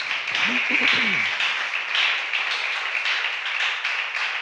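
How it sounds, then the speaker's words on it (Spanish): Church congregation applauds steadily during a service, a dense wash of clapping heard up close, with a brief voice speaking over it at the start. "Dale un aplauso al Señor y vamos a orar."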